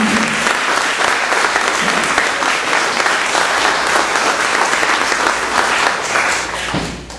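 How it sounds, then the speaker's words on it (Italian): Loud, sustained applause from an audience at a scholarship award ceremony for students and their families, dense and even throughout, tapering slightly at the end. "io vorrei fare un applauso a questi ragazzi e alle loro famiglie"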